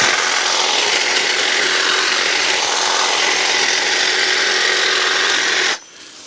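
A Stihl HSA 56 cordless hedge trimmer cuts through shrubbery outdoors, its reciprocating blades making a loud, continuous buzzing chatter up close that stops abruptly near the end.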